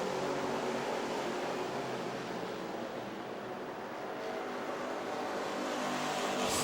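Grand National Sportsman stock cars race side by side at Music City Motorplex in Nashville, TN, with a continuous loud engine roar that dips slightly mid-pass, then swells again as the cars come through.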